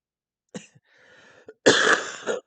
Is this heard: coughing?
yes